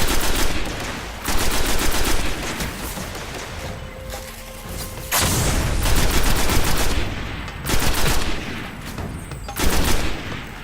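Rapid automatic gunfire from the video game Destiny comes in loud repeated bursts with short pauses between them, close and dominant, with the bursts returning at intervals.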